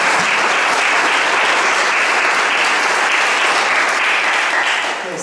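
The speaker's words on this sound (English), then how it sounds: "Let's have a round of applause for all of our readers." Audience applause for readers at a gala launch of a publication, a loud, dense, sustained burst of clapping that holds steady for about five seconds before easing off at the end.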